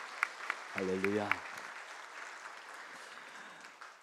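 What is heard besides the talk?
congregation applause at Christmas service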